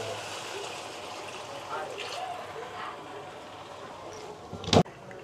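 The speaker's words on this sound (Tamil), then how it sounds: "இப்போ வந்து இதுக்கு தேவையான அளவுக்கு தண்ணி ஊற்றிடலாம்." Water poured into a simmering pot of spicy fish curry in a kitchen, a steady soft trickling wash, ending with a brief sharp clatter.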